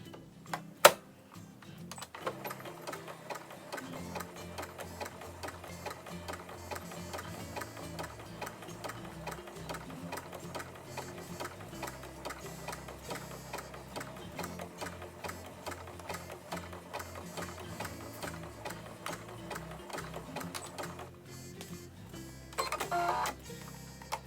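A sewing machine stitches a fabric mask in a steady, continuous mechanical chatter that runs close and fairly loud for about twenty seconds, with a brief louder click at the start and a short pause near the end.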